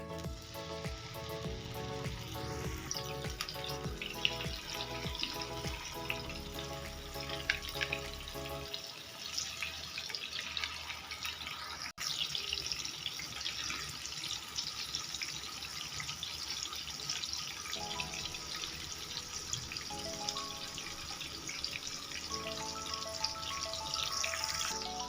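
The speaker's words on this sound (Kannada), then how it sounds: "ಮೀನನ್ನು ಫ್ರೈ ಮಾಡೋಣ." Anjal (kingfish) frying Mangalorean style in hot coconut oil on a tawa, a steady broadband sizzle that runs throughout at close range, with brief watery splashes and clinks mixed in and no talking.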